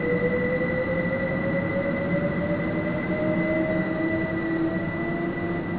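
Steady train running in the Sim World 3 video game on the East Coast Way route, a continuous loud rumble with a rising wheel squeal and whining tones throughout, no talking.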